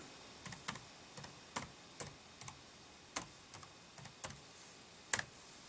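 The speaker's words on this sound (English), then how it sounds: "as you hear the clicking of the touchpad." Touchpad on an ASUS Transformer Book T100 laptop, model T100TA, clicks about a dozen times in an irregular rhythm, quiet and close against near silence.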